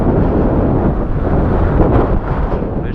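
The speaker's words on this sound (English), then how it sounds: "This shit's so windy" Strong wind roars into the microphone while riding a modified Ecotric e-bike in windy weather, a loud, continuous low rumbling buffet that never lets up.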